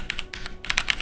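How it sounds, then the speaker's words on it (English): A computer keyboard being typed on during a Slay the Spire session, with a handful of bright clicky keystrokes in a quick irregular rhythm, close to the microphone. "take your microphone and aim it towards your keyboard"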